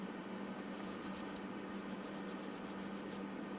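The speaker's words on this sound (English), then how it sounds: "Clean the dust off and the grime." Dust and grime being rubbed off a nixie tube, a soft continuous scratchy rubbing with rhythmic strokes, faint and close, with no talking.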